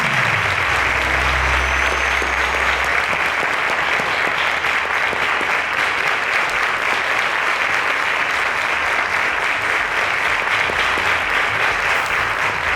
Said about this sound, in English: Ladies and gentlemen, a round of applause to them.